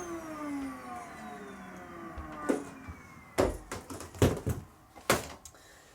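A Hoover vacuum cleaner in poor condition whirs with a falling drone, then a series of loud knocks and thumps cut in toward the end.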